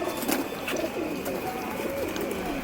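Adult pigeons in a tiled-roof pigeon loft coo softly and repeatedly close by, making a low, rolling, throaty call over a soft background hum.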